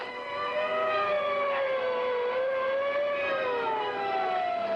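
An ambulance siren wails continuously, its pitch slowly sliding up and down, steady and moderately loud with no talking over it.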